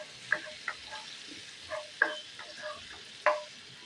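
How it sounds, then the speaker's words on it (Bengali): Spice paste frying in oil without onion or tomato, a faint steady sizzle broken by several sharp spatula scrapes and clinks against the pan. "এবার মশলাটা একটু কষিয়ে নেব"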